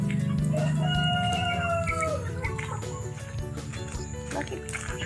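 A rooster crows loudly near the start while chickens cluck continuously around it, with scattered background noise.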